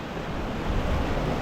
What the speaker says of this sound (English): despite today's wave action, this is not a tidal beach